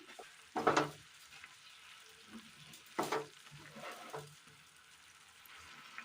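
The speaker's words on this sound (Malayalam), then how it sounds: "ഇതിലേക്ക് ഒരല്പം ഉപ്പിട്ട് കൊടുക്കാം നന്നായി ഒന്ന് മിക്സ് ചെയ്തെടുക്കാം" Food being stirred and fried in a pan after salt is added, a faint background sizzle broken by two louder scraping stirs of a utensil against the pan and a few softer knocks.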